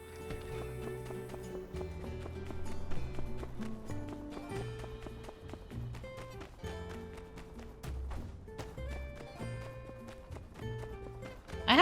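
Horse hooves clip-clop at a steady gallop in the farming game My Time at Sandrock, running continuously under layered background music with no talking.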